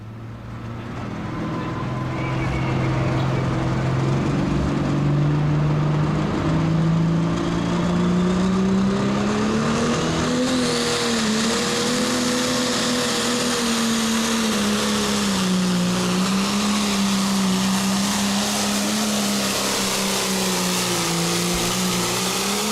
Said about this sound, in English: Bill takes the wheel of his high maintenance John Deere 6030 out here in the limited pro stock class